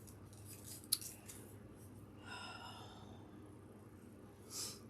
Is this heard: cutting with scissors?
yes